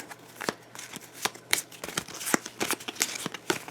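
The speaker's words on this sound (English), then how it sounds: "I'm going to shuffle those up" Cards in a game deck shuffled by hand, a quick series of riffling, snapping bursts with uneven rhythm, close and fairly quiet, with no talk over it.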